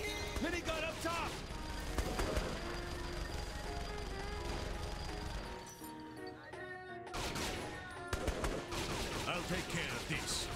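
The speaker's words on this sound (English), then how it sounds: "Minigun up top!" Minigun fire rattles through a Saints Row The Third firefight in dense, continuous bursts that stop briefly and then start again, mixed with crashes and voices.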